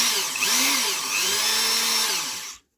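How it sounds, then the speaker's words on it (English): A Dremel rotary tool fitted with a small sanding drum runs close by for about two and a half seconds with a steady high-pitched whine that wavers a little under load, then cuts off abruptly. "We've got our little sanding drum on."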